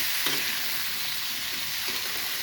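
Okra with turmeric and salt fries in a pan, giving a steady, close crackling sizzle with a few soft stirring scrapes.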